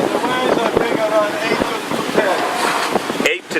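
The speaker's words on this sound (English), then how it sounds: "We're 23 knots of wind right now." Strong 23-knot wind roars across the microphone aboard a sailboat off Antigua in 8 to 10 foot seas, a dense, continuous rushing with sloshing water and hull noise while people talk over it.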